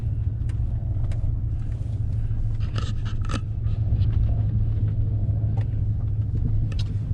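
A pickup driving slowly over rough, uneven ground, a heavy low engine rumble with scattered rattles and scrapes from the body and tires, close and steady.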